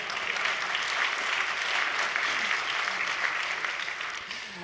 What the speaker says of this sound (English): Feel free to clap though,